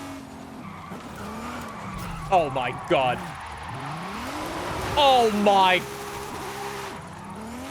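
Car tires skidding and squealing while drifting in Forza Horizon 5, an all-wheel-drive JDM car with a revving engine underneath, two loud screeching bursts while someone talks excitedly over it.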